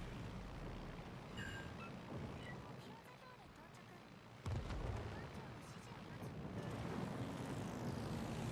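Attack aircraft drone overhead in the naval video game World of Warships: Legends, a steady propeller roar with a sudden heavier blast midway, under a continuous engine and sea rumble.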